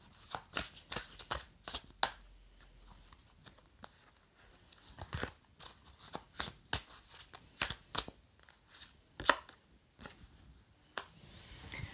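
A deck of playing cards is shuffled repeatedly, quick crisp riffles and flicks in a steady rhythm, close up with no talking.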